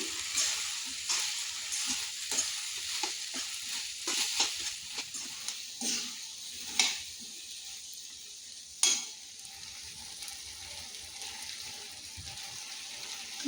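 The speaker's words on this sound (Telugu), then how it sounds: "హై ఫ్లేమ్లో పెట్టుకొని జస్ట్ 2 మినిట్స్, అంటే ఓన్లీ 2 మినిట్స్ మాత్రమే దీన్ని ఫ్రై చేసుకోండి" Soya chunks in sauce frying on high flame for soya chilli Manchurian, with a steady crackling sizzle and repeated scraping stirs, a few sharp clinks standing out near the end, all nearby with no voices.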